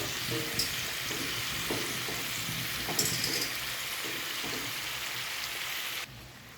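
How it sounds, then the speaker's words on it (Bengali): Cut potatoes fry in hot oil in a pan with a continuous close, crackling sizzle and occasional stirring scrapes, before the sound drops off sharply at the end. "কড়াইতে তেল গরম করে এভাবে আলু কেটে আমি পুরো আলুটাই"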